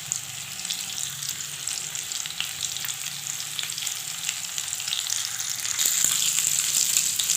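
Chicken tikka pieces, lightly boiled first, fry in a pan without coal, giving a steady, close, fairly loud sizzle with crackling spatter that holds for the whole stretch and swells slightly toward the end.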